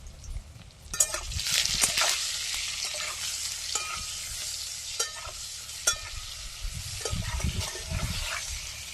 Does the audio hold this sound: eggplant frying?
yes